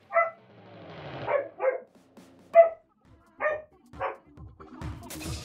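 A dog barks loudly in a string of about seven sharp, separate barks spread over several seconds, close and dominant, with some quieter whimpering and yipping sounds between them.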